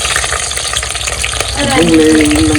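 Whole onions frying in hot oil in a home kitchen for a whole-onion curry, giving a steady close sizzle that swells louder partway through, with a faint voice speaking over it.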